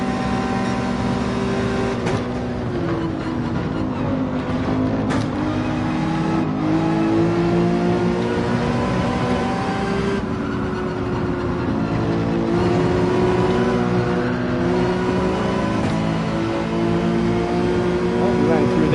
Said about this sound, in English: Formal credits with the amazing sounding Mercedes AMG GT. Incredible sounding car.